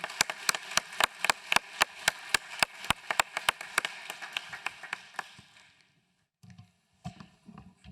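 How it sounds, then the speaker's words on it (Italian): An audience at an Italian workplace-safety conference claps in brisk, evenly spaced unison beats for a nursing graduate receiving a degree award, then the clapping thins out and stops, leaving a short quiet gap and a few scattered sounds. "Un applauso per la nostra laureata."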